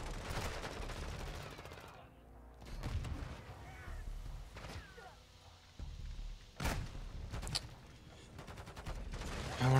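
M4 rifle fire in the video game Modern Warfare 2, with quick bursts and single cracks of gunfire scattered across the scene, some close and sharp, others softer, mixed with faint game sounds.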